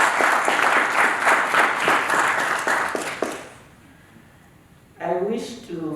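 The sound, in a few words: applause for the diplomat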